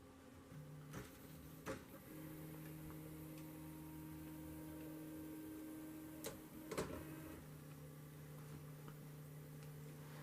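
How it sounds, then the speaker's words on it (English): A 3D printer starting a keyguard print gives a low, steady motor hum and faint whine throughout, with a few sharp clicks and ticks scattered across it, all fairly quiet. "The printer is about to begin printing the keyguard."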